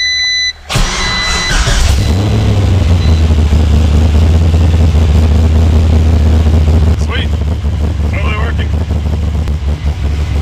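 A Mazda RX7 FC3S engine cranks, fires and settles into a loud, steady idle right up close, with brief voices heard over the running engine later on.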